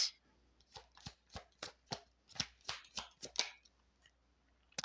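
Tarot cards are shuffled by hand, a rapid series of crisp riffling bursts and soft slaps in an uneven rhythm, close and quiet with no speech.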